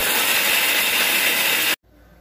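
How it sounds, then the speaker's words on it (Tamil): A kitchen mixer grinder whirs at high speed on coconut, roasted gram, fennel, ginger and chilli for a paste, a loud close buzzing roar that cuts off abruptly near the end, leaving quiet room tone. "தேங்காய், பொட்டுக்கடலை, சோம்பு, இஞ்சி, மிளகாய் எல்லாத்தையும் மிக்சி ஜாரில் போட்டு ஃபைன் பேஸ்ட்டாக அரைச்சிக்கலாம்"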